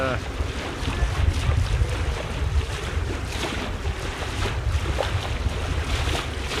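Strong wind buffets the microphone with a constant roar, mixed with rushing water and small waves, out at sea.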